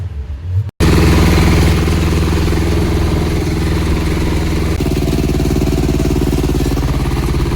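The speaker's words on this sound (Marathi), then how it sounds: "तर ट्रॅक्टर घेऊन चाललोय आपण पांढरीत" A loud tractor engine chugs steadily at close range, its rhythmic low thumping continuous after a brief quiet start.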